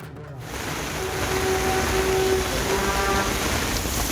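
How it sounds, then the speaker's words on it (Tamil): Sudden heavy rain with wind around Chinnasalem in Kallakurichi district, Tamil Nadu, a dense continuous roar of downpour that swells after a brief quiet start and stays loud and even throughout. "காற்றுடன் திடீர் கனமழை பெய்தது"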